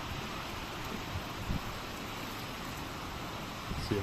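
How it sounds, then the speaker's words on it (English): Steady outdoor rain falls as a continuous soft hiss, fairly even throughout with a couple of faint knocks, with no voices. "wait for the rain to ease up"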